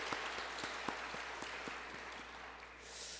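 A church congregation applauds the choir after a hymn during a worship service, giving a steady, fairly distant wash of clapping that fills the whole moment and slowly thins toward the end.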